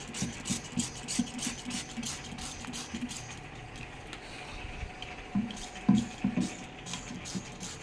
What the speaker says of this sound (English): We are spraying it with water now